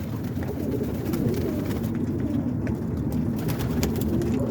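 Dense, continuous cooing from a loft full of roller pigeons in Massachusetts, many birds murmuring together at close range with no talking.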